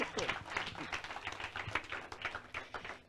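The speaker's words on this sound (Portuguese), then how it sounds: "uma salva de palmas para o Senhor" Applause from a church congregation, scattered hand claps close and fairly faint with people talking over them.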